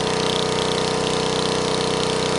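Otto Kynast Aero-Star BV48Z department-store lawn mower engine running steadily and loud, a continuous close, even drone with no voices.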